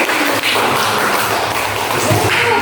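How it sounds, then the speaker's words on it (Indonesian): A classroom of students in an Indonesian teacher-training lesson applauds after a group presentation on Batak customs: steady, dense, close hand clapping from many people, sustained for the full stretch without a break. "tepuk tangan dulu"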